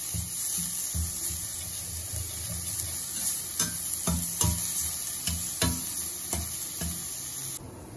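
Red chilies with garlic and ginger paste sizzle in a pan as a utensil scrapes and taps in irregular strokes, close and moderately loud over a steady frying hiss.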